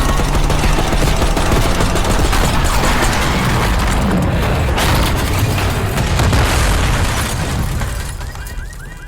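Dense, continuous gunfire and heavy explosive booms fill a Black Ops 6 campaign firefight on a street, loud and sustained throughout before easing slightly at the end.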